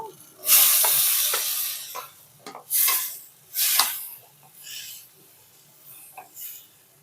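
Mushrooms and tomato paste sizzle in a pan, with bursts of hissing frying and occasional scrapes of stirring, loud at first and then settling into quieter intermittent crackles.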